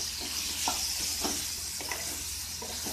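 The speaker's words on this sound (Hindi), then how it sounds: "टमाटर को इस तरीके से प्रेस करते हुए मैश कर लेंगे और सब्जी को अच्छे से मिला लेंगे" Spicy vadi and potato curry is stirred in a pan while tomatoes are pressed and mashed into it, giving a steady sizzle with soft, irregular scraping and squishing strokes close by, with no talking.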